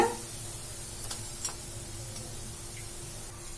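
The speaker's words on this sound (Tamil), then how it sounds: "நம்ம போட்டிருந்த இந்த முருங்கைக்கீரை எல்லாம் பாத்தீங்கன்னா ஆயில வந்து நல்லா ஃப்ரை ஆயிருக்கு." Drumstick leaf vada crackles faintly in hot oil, a soft steady sizzle with a couple of small pops and light clicks.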